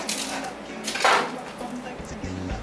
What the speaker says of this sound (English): I just quarter the onions.